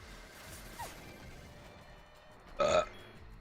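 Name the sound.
character burping in Final Fantasy X-2 video game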